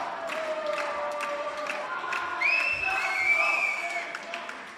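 Crowd at a live wrestling match, a steady wash of cheering and clapping with shouts and a rising whistle-like cry midway, heard beneath commentary voices.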